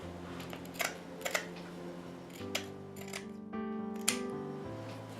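Scissors trimming material for a pumpkin craft with a witch hat: a few sharp, close snips spaced irregularly over a quiet steady hum, with no talking.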